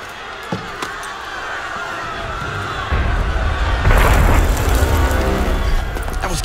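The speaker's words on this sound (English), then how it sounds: "That was cannon fire." Cannon fire booms in Assassin's Creed Unity, a deep rumbling blast arriving around the midpoint and sustaining a loud low roar over restless crowd ambience, with a couple of faint thuds before it.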